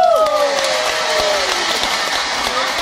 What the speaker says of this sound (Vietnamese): hãy nổ những tràng pháo tay thật lớn thật giòn giã của mình để cùng cổ vũ và chúc mừng cho đôi trẻ